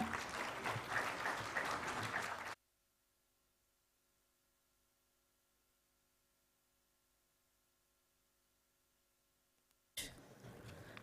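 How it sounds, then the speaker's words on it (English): A hall audience at a government scheme launch applauds loudly for a couple of seconds, then goes almost silent for a long stretch before the clapping bursts back in. "Please join me in welcoming her with a warm round of applause"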